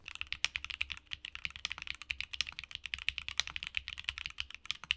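Akko Dracula mechanical keyboard switches being typed on, giving a fast, steady stream of crisp clacking keystrokes with soft thocky low ends, close and fairly quiet, with no voices.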